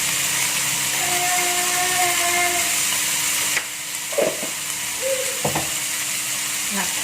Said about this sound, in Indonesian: Nah, kita aduk.